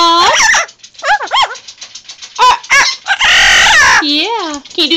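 A pet parrot imitates a rooster's crow, giving several loud, close, warbling calls broken by short squawks and chatter, with a sustained screech near the end.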